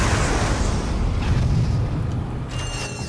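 Deep rumbling boom from bomb gun explosions in the Ratchet & Clank video game, a sustained low roar that fades slowly with faint high tones near the end.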